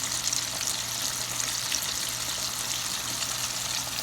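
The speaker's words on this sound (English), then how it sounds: "I'm gonna drop these down into the oil" Pork ribs fry in oil on medium-high heat, giving a steady, dense sizzle and crackle that holds level throughout with no voices.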